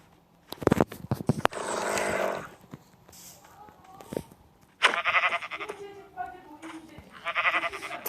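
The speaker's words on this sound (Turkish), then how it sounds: "Aha koyun." Sheep bleat in the Minecraft video game, several short nasal calls between bursts of game sounds and scraping, while a player talks.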